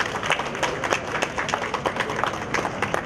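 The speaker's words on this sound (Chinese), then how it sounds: "掌声欢迎，掌声欢迎。" An audience at a Chinese calligraphy and painting exhibition opening applauds to welcome a guest of honour, with dense, lively clapping that runs throughout at a fairly close distance.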